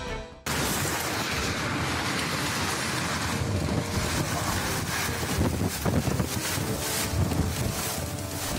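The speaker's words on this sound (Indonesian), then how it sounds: "Terjangan angin puting beliung di Kecamatan Prajikan Bondowoso sore kemarin rekam kamera warga." A whirlwind storm tears through Prajekan district in Bondowoso, strong gusts blowing roofs off houses. Loud, continuous roaring wind with heavy buffeting and rain-like hiss fills the whole recording, close to the microphone, with no speech.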